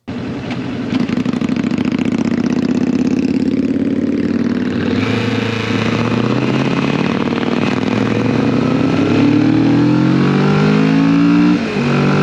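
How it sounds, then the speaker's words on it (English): A Kawasaki V-twin motorcycle engine rumbles loudly and steadily, then revs and accelerates with a deep, pulsing growl rising in pitch. "the Vulcan 900 Custom has a very traditional V-twin growl from a low RPM as it starts off"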